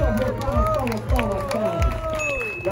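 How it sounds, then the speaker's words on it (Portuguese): A crowd at a street rap battle cheers and shouts, with some clapping beneath a tangle of excited yelling voices, loud and close throughout. "Palmas pra batalha"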